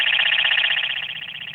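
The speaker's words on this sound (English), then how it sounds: "So you hear this, that's the man down alarm." A two-way radio's man-down alarm sounds as a loud, shrill, steady electronic tone with a rapid warbling pulse, continuous and close throughout.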